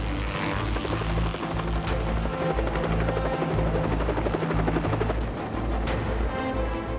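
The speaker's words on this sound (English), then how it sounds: "a squad of 4 Little Bird helicopters, backed up by 4 Black Hawks, launches from naval vessels just off the Somali coast" A squad of Little Bird helicopters backed by Black Hawks lifts off from naval vessels off the Somali coast, producing a loud, steady rotor drone with layered engine whine that never lets up.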